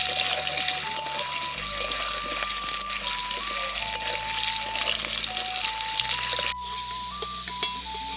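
Mustard oil heats and fries in a wok over a lit stove, a loud continuous sizzle up close while light background music plays.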